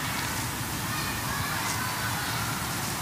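Domestic goose near a stadium and school, honking over a dense, loud outdoor wash of noise; the calls are indistinct and blend into the background rather than standing out clearly.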